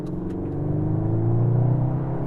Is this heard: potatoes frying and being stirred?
no